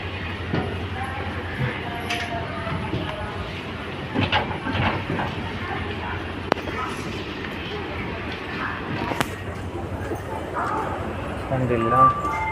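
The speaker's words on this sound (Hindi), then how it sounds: "ट्रेन निकल चुकी है।" A passenger train travelling on the rails with a steady low rumble and occasional clacks and knocks beneath, heard from inside a carriage while people talk nearby throughout.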